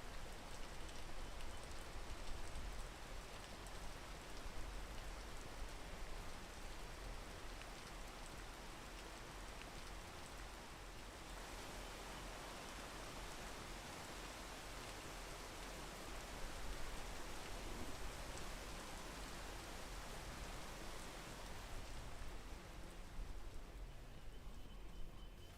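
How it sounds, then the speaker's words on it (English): Steady rain in the video game Peak, a soft, continuous hiss of drops on surfaces that holds an even level throughout with no talking over it. "Gotta wait for the rain, though."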